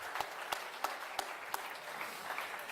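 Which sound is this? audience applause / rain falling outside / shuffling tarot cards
audience applause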